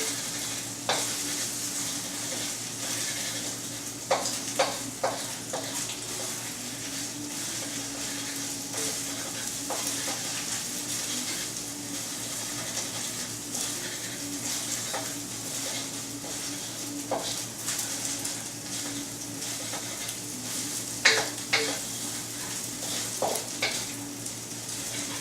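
Eggs sizzle steadily in a hot pan over high heat while a utensil stirs and scrapes them, giving sporadic clicks and taps over a constant frying hiss and a low background hum.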